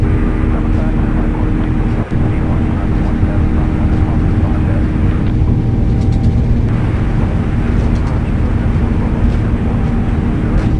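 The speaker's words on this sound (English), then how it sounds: "Takeoff, thrust set." Boeing 787 jet engines in a flight simulator spool up to takeoff thrust, a loud, steady broadband roar that stays level for the whole stretch.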